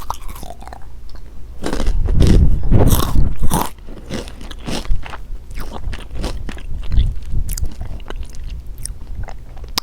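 Loud, close crunching and chewing of Crunchy Dragon Sweet Chili Takis rolled tortilla chips, with a heavy bite early on followed by repeated sharp crunches as the chips are chewed.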